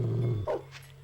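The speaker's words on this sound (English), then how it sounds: "Now, these dogs all look mean, but if I'm right, they won't actually attack you." A single short, gruff dog bark from the video game Shadowman comes near the midpoint, with a low droning tone before it and quiet game ambience after.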